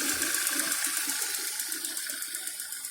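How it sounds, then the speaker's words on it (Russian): A Lada Granta with the 11182 engine, which has ignition misfires, idling while it warms up, giving a steady close mechanical drone with a fast regular ticking pulse and slight unevenness in the beat. "Нет, еще грею мотор"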